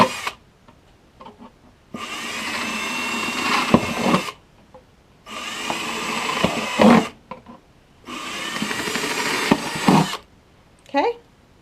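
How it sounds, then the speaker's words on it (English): Cordless drill boring holes through plastic milk jugs for winter sowing, three loud whirring bursts of about two seconds each separated by short pauses, close up. "take my drill, and it's cordless for me, but take my drill and just kind of, I usually put 4 holes in."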